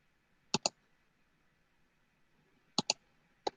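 Computer mouse clicks while data is copied and pasted: a quick double click, a pause, another double click, then one single click, crisp and close in a quiet room.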